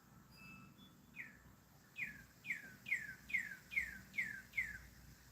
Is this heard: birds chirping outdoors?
yes